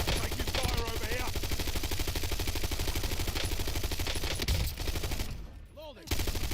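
Dense, continuous gunfire from Call of Duty Black Ops 6 Warzone rattles on for several seconds, loud and close, broken by a brief drop near the end before it resumes.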